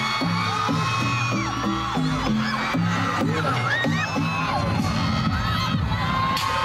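A large crowd at a concert performance at the Pepsi Pulse 2023 show on the MOA Concert Grounds cheers and screams continuously, with shrill whoops and shouts rising over a dense, loud roar.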